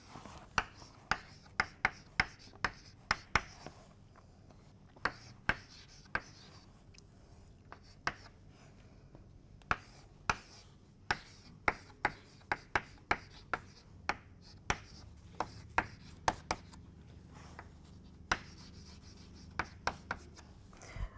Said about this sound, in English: I am going to write this in full form